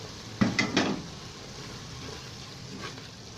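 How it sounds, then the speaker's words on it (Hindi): Potatoes and fenugreek frying with ginger garlic paste and green chilli over medium heat, heard as a quiet close sizzle with a few brief spoon stirs and scrapes early on, no talk. "मीडियम आंच पे आप इसको फ्राई कर रहे हैं। ये देखिए, ये बड़े अच्छे से फ्राई हो रही है।"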